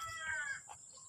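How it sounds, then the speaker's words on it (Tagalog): A chicken among squash plants in a provincial garden gives a brief, faint cluck, a short call at a distance over quiet outdoor ambience. "Ayun, may manok doon, oh."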